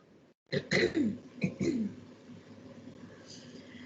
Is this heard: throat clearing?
yes